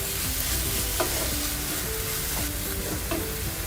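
A spoon stirs a bread-pocket filling of softened vegetables with tomato ketchup and Schezwan sauce in a pan, a soft continuous sizzle with faint scraping taps, heard close and without talk.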